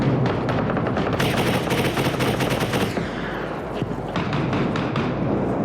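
Rapid bursts of automatic gunfire in the video game Arma Reforger, loud and close, with a brief pause before more shots and rumbling echoes.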